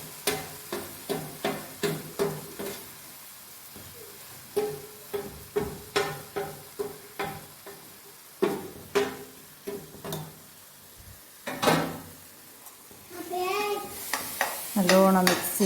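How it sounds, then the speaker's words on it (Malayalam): A spoon scrapes and stirs ground peanut, rock sugar and cardamom powder in a pan, in repeated short rhythmic strokes, close and fairly quiet, with a brief stretch of other sound near the end. "നല്ലോണം മിക്സ് ചെയ്ത് കൊടുക്കുക"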